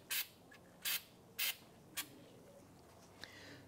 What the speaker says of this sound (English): I'm going to apply some anti-seize spray to the face of the hub here.